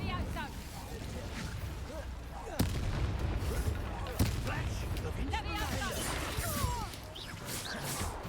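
Incendio fire spell in Hogwarts Legacy: booming, crackling blasts of spell and combat effects, with sharp hits near 2.6 and 4.2 s, over a dense, continuous game soundscape while someone talks over it.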